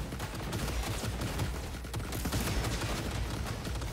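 Dense, continuous gunfire from the video game Cyberpunk 2077, a steady wash of rapid shots and mechanical noise with no pauses, moderately loud throughout.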